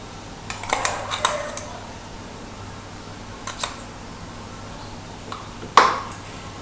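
Crushed Oreo biscuit powder being stirred into butter in a bowl, with a few scattered clinks and scrapes of a spoon against the bowl and one sharper knock near the end, fairly quiet and with no talking.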